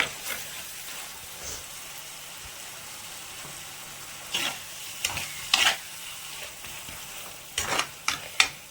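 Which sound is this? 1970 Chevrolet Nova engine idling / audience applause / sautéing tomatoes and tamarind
sautéing tomatoes and tamarind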